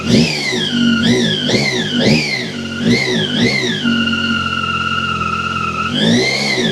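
A 2024 Yamaha Tracer 9 GT+ motorcycle engine is blipped several times in quick succession, its pitch rising and falling with each rev, then held at a steady hum before one more rise, loud and close.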